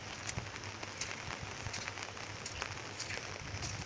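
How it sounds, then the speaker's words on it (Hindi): Steady rain falls on a village farm after two days of downpour, a soft, continuous hiss with scattered drips and patters, moderately distant and without voices. "बारिश तो लगातार दो दिन से हो रही है"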